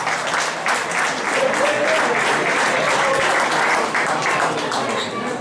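Dinner presentation guests give a dense, sustained round of applause that stays loud and steady from start to finish, with crowd noise mixed in.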